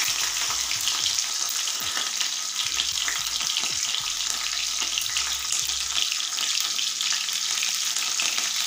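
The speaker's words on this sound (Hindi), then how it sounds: "हम इसमें ना जीरा डाल देते हैं। और साथ में ये मिर्च भी डाल देते हैं।" Cumin seeds and chillies crackle and sizzle in hot oil, a dense, steady frying hiss heard up close with occasional stirring clinks throughout.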